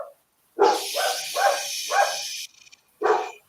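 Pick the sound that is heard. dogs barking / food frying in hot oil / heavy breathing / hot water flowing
dogs barking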